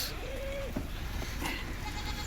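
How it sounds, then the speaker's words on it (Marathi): Goats bleat several times against a steady background hum, one wavering call drawn out near the start and others shorter, close by. "या पूर्ण उपाशी शेळ्या आहेत"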